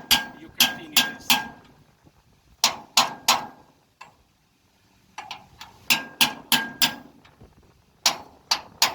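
Hammer strikes drive a bolt through an open socket while fitting an equalizer and hanger on a car hauler trailer: sharp metallic blows in quick bursts of three or four, separated by short pauses, close and loud with no talk.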